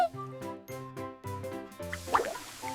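Cartoon rain falling on someone's head, heard as a few brief watery drips and plops near the end, set over bouncy cartoon music.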